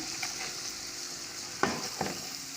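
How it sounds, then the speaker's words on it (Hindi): Chicken for nihari frying in red chilli powder and spices, a quiet even sizzle broken by two distinct metallic knocks of a spoon against the pan, near and alone. "इसको अच्छी तरह से हम भूनेंगे मसालों में"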